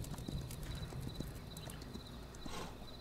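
Horse hooves clip-clop steadily in the Kingdom Norse Lands video game, an even rhythm of soft, close footfalls over a dense ambient background, with no talking.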